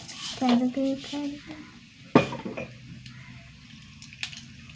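Mustard seeds dropped into hot oil in a pan, giving a few clattering, crackling bursts near the mic, then a sharp clink and faint spatter as the sizzle settles.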